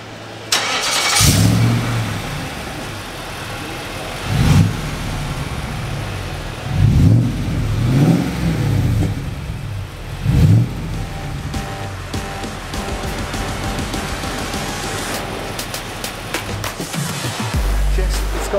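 A car fitted with an AVO cat-back exhaust starts up for the first time, then gives several short revs that rise and fall before settling into a steady idle, close and loud, with brief voices.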